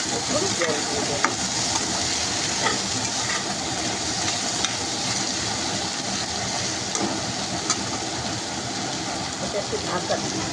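Tomatoes are stirred and fried in a pan, a steady close sizzle with scraping stirring strokes, while someone talks over it throughout.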